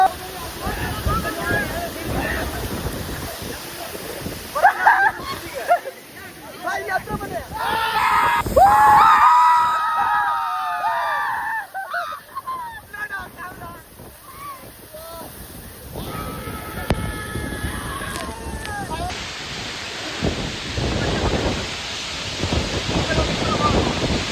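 Ukkada waterfall in the Muthodi forest of Chikmagalur roars steadily as a broad, constant rush of falling water, with people shouting and calling out over it throughout.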